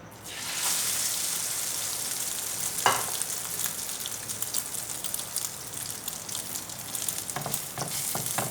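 Bread snacks frying in hot oil, a steady close sizzle and crackle with occasional sharp pops and stirring, no voices.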